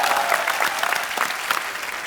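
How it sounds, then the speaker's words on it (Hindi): Studio audience on a Hindi TV comedy talk show breaks into loud, sustained clapping that fills the whole stretch at steady volume, with no voices over it. "एक बार जोरदार तालियां"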